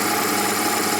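A small mini lathe runs steadily with a continuous high-pitched motor whine and a faint vibrating hum, close and even, with no talking.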